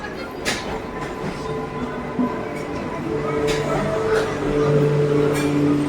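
A passenger train running steadily just after leaving the station, a continuous rumble and clatter of wheels heard from inside a carriage, with a few squeals and brief voices in the background.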